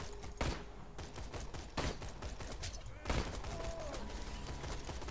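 Gunfire in the video game Borderlands 2: several sharp shots cracking at uneven intervals over a busy game soundscape, with a voice faintly underneath.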